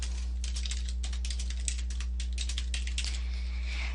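Typing on a computer keyboard, a quick uneven run of light key clicks that keeps going for several seconds over a steady low hum, with no talking.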